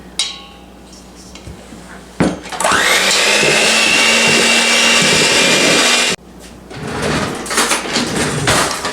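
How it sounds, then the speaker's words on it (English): An electric hand mixer beats sticky cookie dough made with egg, switching on abruptly into a loud, steady motor whine for about four seconds, then stopping and starting again more roughly as the beaters churn the thick dough. "we're going to beat it with a mixer until it's smooth"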